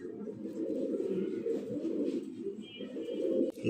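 A pair of fancy Giachalli pigeons coo in a steady, low, continuous murmur that stays close and fairly soft throughout, with no talking.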